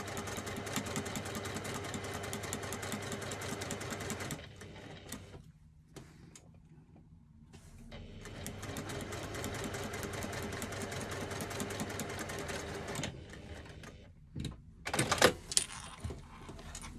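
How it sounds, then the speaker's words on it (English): Sewing machine fitted with a Teflon foot stitching fabric, running in steady mechanical bursts with a pause in the middle and a few louder clicks near the end; no talking. "I keep my Teflon foot on pretty much all of the time because I can stitch fabric with it as well as faux leather"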